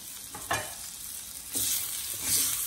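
Eggplant cooking in a pan on a gas stove, soft continuous sizzle with a few brief scraping stirs, close and fairly quiet with no talk.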